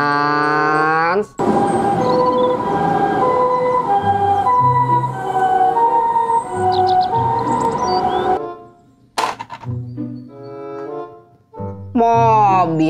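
A toy ambulance siren wails in a loud two-tone pattern, cutting off briefly and returning, close and electronic-sounding.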